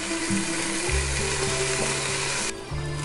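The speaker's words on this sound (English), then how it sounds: "put the onions in and saute them until they're golden" Onions sauté in a pan with a steady, close, loud sizzle that hisses without a break, a low hum running underneath and no one talking.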